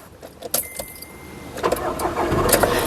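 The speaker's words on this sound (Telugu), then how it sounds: "సింగిల్ సెల్ఫ్లో కార్ స్టార్ట్ అవుతుంది ఎటువంటి స్టార్టింగ్ ట్రబుల్ అయితే లేదు" A 2013 Skoda Rapid Elegance starting on the first crank: a key jingles, the starter whirs briefly, then the engine catches and settles into a rising, steady idle, loud and close.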